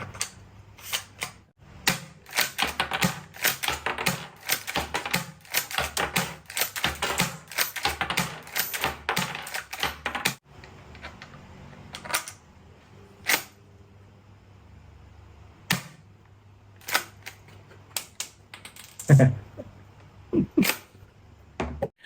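Toy Zhuangsen M870 pump-action shotgun with shell ejection being handled, producing a dense run of rapid plastic clicks and clacks, then sparser single sharp clicks, close and fairly loud.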